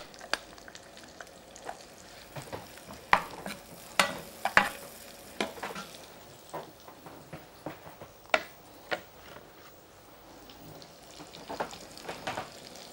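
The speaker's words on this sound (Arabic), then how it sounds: "بننزل البصل الاول البصل المفروم الاول" Minced onion fries in a pan, with a soft, low sizzle punctuated by scattered sharp pops and crackles at irregular intervals, heard close with no talking.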